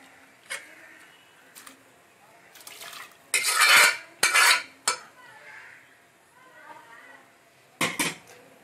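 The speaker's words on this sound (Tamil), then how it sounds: "இப்போ இதை வந்து ஒரு கல்ச்சட்டியில் வந்து மண்சட்டியில் வந்து டிரான்ஸ்ஃபர் பண்ணிக்கலாம்" Cooked mashed amaranth greens scraped into a clay pot: a few sharp clinks and scrapes of a metal spoon against vessels, in brief bursts separated by quieter pauses, close by.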